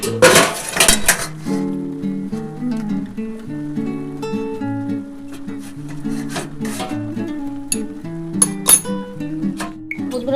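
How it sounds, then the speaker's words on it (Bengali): A metal lid comes off a cooking pot of bitter gourd, eggplant, green banana and potato with a few sharp clanks and rattles, followed by lighter clinks of utensils against cookware in a quiet kitchen. "ঢাকাটা একটু খুলে দেখি কতটা হলো।"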